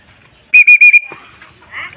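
A handheld whistle is blown in four quick, shrill blasts, loud and close, during pigeon training in Cabanatuan, Nueva Ecija, followed by quieter outdoor rustling and a faint trailing tone.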